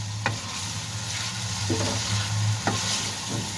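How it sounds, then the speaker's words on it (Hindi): Masala for white chicken karahi sizzles steadily in a pan, with a few sharp scraping stirs of a spoon at intervals over the constant frying hiss. "तो इसको भी हम बहुत ही अच्छी तरह भून लेंगे।"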